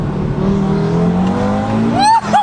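A tuned 800 hp Audi TT RS accelerates hard, heard from inside as a loud, close engine drone rising steadily in pitch, ending with sharp chirping squeals.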